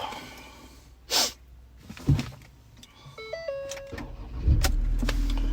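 A 2017 Ford Ranger 3.2 TDCi diesel pickup with automatic transmission: a click, a thump and electronic dashboard chimes come first, then the engine cranks and settles into a steady low idle close by.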